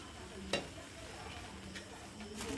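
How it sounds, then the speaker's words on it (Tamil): Bread roasting in ghee in a hot pan gives a quiet, steady sizzle with a few sharp clicks and scrapes of stirring, heard close and low without speech. "ப்ரெட்டெல்லாம் நல்லா நெய் போட்டு ரோஸ்ட் பண்ணி எடுத்து வச்சுக்கலாம்"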